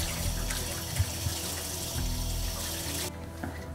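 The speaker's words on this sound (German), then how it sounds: "Und einmal das Ganze abspülen." Vegetables for a cabbage stew rinsed under a running kitchen tap, a steady close rush of water with a few knocks and splashes, cutting off abruptly near the end.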